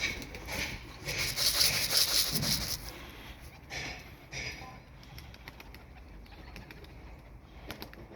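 A smoky-grey Dumanlı pigeon, a stray being coaxed down, gives soft coos and a brief burst of flapping wings close by, followed by quieter rustling and faint clicks.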